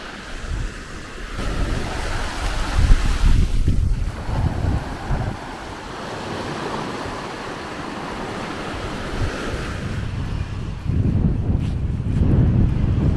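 Ocean surf rolling onto a beach at a river mouth in Senegal, a steady wash of waves with heavy wind buffeting the microphone, surging louder near the end, with no voices.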